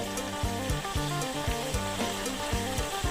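Sago palm weevil larvae deep-frying in hot oil, a steady close sizzle with soft rhythmic stirring scrapes repeating every half second, no voices.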